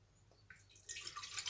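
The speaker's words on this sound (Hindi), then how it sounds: "पानी डालेंगे" Water poured into a cooking pot on a lit stove for chicken dal soup, starting as faint drips and building into a steady, close splashing stream.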